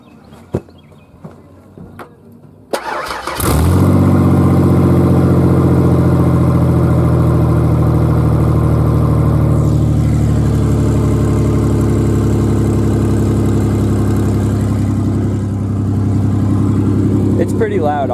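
A 1995 Ford Ranger with the 4.0 engine runs on open headers. It starts with a sharp catch at about three seconds and then settles into a loud, steady, deep rumble. The rumble holds up close and stays even to the end, with no voices.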